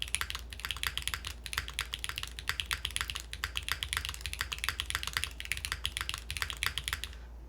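Typing on a Game Boy DMG themed mechanical keyboard: a dense, continuous patter of close-miked keystrokes with a soft clacky thock, a few brief pauses, and a low steady hum beneath.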